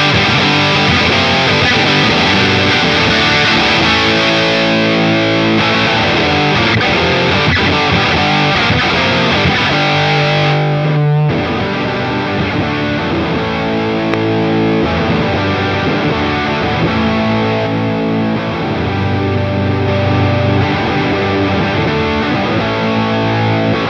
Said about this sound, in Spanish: Ya has estado escuchando cómo suena este pedal en todo lo que he estado tocando aquí durante el video